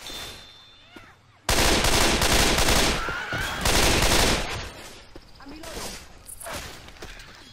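Loud bursts of gunfire in Left 4 Dead 2, starting suddenly and continuing as a dense fusillade of rapid shots with thuds, with voices talking over the chaos.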